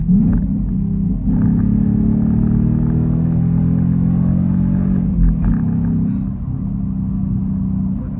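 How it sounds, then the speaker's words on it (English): A Ford Mustang GT (Gen 3 Coyote V8, tuned to about 700 horsepower on E85) rumbles steadily up close through a quick downshift, its loud low drone dipping and surging briefly near the middle before settling back. "quick downshift"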